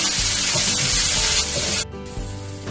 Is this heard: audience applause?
no